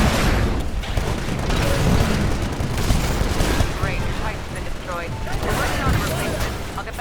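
Titan battle in the Titanfall beta video game, with dense bursts of gunfire, booms and a nuclear self-destruct blast mixed into loud continuous game action, with a voice speaking over it.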